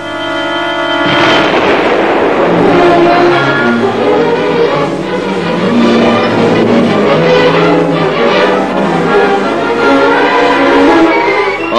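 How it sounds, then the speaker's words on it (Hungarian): A landmine detonation in a military training film, a loud sustained blast and rumble that swells and fills the whole stretch, with no speech over it. "és az akna robban."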